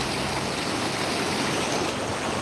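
A steady, dense rush of water at a small waterfall in Krishnagiri, with continuous broadband flow and no pauses, fairly close and with no voices.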